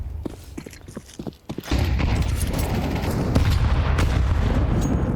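A grenade detonates during an ESL Challenger League esports video game match: quiet clicking and thuds, then a sudden loud blast that rolls into a sustained rumbling roar with scattered crackles.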